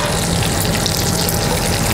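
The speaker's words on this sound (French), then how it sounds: "ça rôtit dans un beurre bien mousseux, gentiment" Lamb roasting gently in foaming butter in a Michelin-starred restaurant kitchen, a steady loud dense sizzle and crackle filling the whole stretch without pause.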